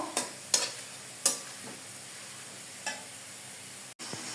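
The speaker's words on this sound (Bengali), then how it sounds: "হালিম রান্না করব, তার জন্য আমি আগে পেঁয়াজটাকে বেরেস্তা করে তুলে রাখবো।" Sliced onions fry in hot oil for crispy beresta before making haleem, with a few sharp spatula scrapes and stirs over a faint sizzle, close and intermittent.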